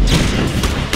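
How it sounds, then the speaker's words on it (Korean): Grenade detonating in the Just Cause 3 video game, a loud booming explosion with rumbling blasts and gunfire-like bursts filling the short moment, near and dense. "자 나왔어 수류탄. 한 방에 끝내자."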